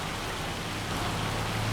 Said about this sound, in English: Okay, so the rain didn't get any better.